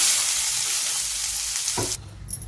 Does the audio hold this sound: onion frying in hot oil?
yes